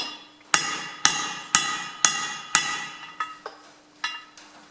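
Sharp metallic hammer blows struck on the end of a socket while working on the rear axle housing of a Ferguson FE35 tractor: five evenly spaced loud strikes, then several lighter, quicker taps, close and clear with no talk.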